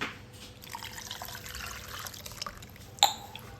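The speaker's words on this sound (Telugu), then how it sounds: "ఇందులో మనకు నీళ్ళు పోసుకుందాం." Water pours softly into an Ugadi pachadi mix of neem flowers, tamarind and salt, a faint, low trickle ending in a short, sharper splash near the end.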